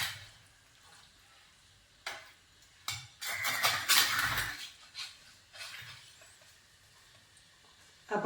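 A ladle clinks and scrapes against a metal pot while stirring marinated fish for Kerala fish pickle: scattered knocks, then a louder, denser burst of stirring and scraping in the middle before it settles back to occasional clatter.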